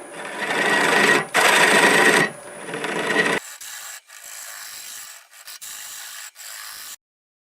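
A hole being drilled into a wild cherry wood bowl on a lathe, a loud grinding and rubbing cut in several bursts, then a quieter, thinner spinning whir before it stops.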